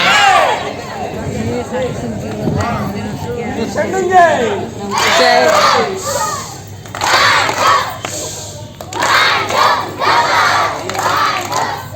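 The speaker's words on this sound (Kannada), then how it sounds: "ಕೊನೆಗೆ ನಾಟಕ ಮುಗ್ದು ಮಕ್ಕಳೆಲ್ಲ ಜೈಕಾರ ಹಾಕೊಂಡು ಹೋಗ್ತಾ ಇದಾರೆ" Children leaving after a play at a camp chant loud, rhythmic victory cheers in bursts, a crowd of young voices shouting together close by with brief pauses between rounds.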